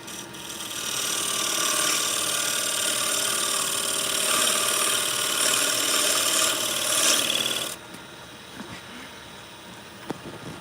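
A woodturning lathe spinning near 1,000 RPM as a tool cuts the wood, a loud continuous scraping hiss that runs steadily for several seconds, then cuts off sharply, leaving quieter motor hum and small knocks.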